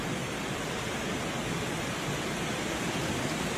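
Heavy, steady rain roars during a flood in Hongsa, northern Laos, a dense, unbroken wash of noise like rushing flood water, loud and continuous throughout with no voices.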